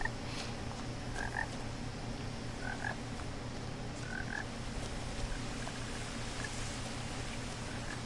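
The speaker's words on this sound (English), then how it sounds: "I will find this frog." Repeated frog croaks in a game world, short paired calls recurring every second or so over a steady low ambient drone, moderately loud with no talking.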